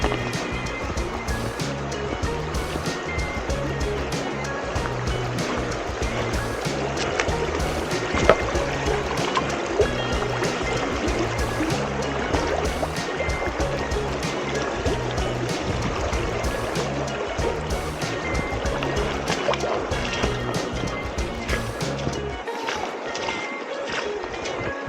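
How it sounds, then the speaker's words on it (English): Fast-flowing stream water rushing steadily and loudly close by, a continuous churning wash that cuts off abruptly near the end. "we got some fast flowing water here."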